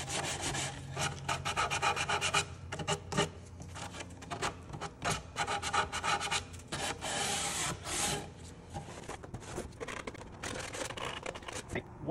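Sandpaper rubs a bevel onto the edge of a freshly sanded wooden rail, close, rapid scratchy back-and-forth strokes in uneven bursts with brief pauses and faint speech in between.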